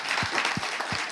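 Brief burst of audience clapping at a live talk show, continuous patter with a few low thumps, fairly close and alone without speech.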